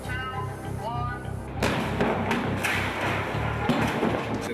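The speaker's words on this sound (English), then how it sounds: "The shredder is going to bust through the car, and as it breaks through the car is going to cannon over." A shredder vehicle smashes through a car during a film stunt for Battleship. A voice comes first, then a sudden heavy crash and crunching impact, with a second thud a couple of seconds later.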